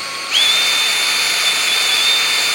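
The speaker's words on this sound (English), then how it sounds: "I'm only going to be drilling maybe at most 2/3 of the way through" A power drill bores into a neck about 15 to 20 mm thick, starting abruptly and holding a loud, steady high-pitched whine close by for the rest of the clip.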